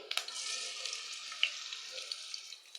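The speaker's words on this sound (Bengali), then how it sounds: "আমি এখন প্রথমে দিয়ে দিব পেঁয়াজ কুচি" Chopped onion goes into hot oil in a pan for a Bengali Malabar spinach curry, giving a steady, broad sizzle that runs the whole time with a few small pops and crackles, close and alone without talk.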